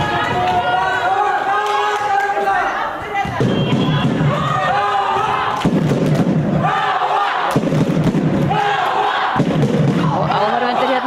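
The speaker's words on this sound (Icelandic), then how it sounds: "áhorfendur hérna í Naustnaskóla þarna látt í sér heyra" Spectators in a school hall cheer and shout loudly throughout a women's volleyball match between KA and Stjarnan, with thumps of play and a commentator talking over the steady crowd noise.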